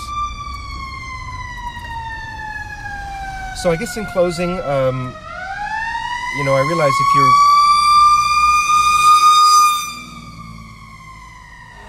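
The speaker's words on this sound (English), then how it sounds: "More ambulances." Wailing ambulance sirens sweep up and down as the ambulances pass by in Hollywood, loud and then fading away, with a person talking briefly midway.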